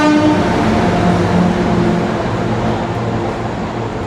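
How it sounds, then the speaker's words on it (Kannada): The Mysore–Ajmer special train pulls into a crowded station, its loud sustained horn tones ringing over a heavy rumble of rolling coaches for the whole stretch, with no speech. "ಫ್ರೆಂಡ್ಸ್ ನೋಡಿ ಫ್ರೆಂಡ್ಸ್, ಅಜ್ಮೇರ್ ಟ್ರೈನ್ ಬಂದಿದೆ."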